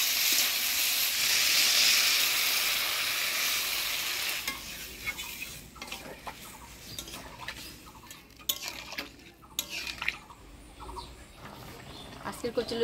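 Water poured into a hot pan of kochur loti curry cooked with spices, a loud burst of hissing sizzle that fades into softer bubbling and stirring clatter.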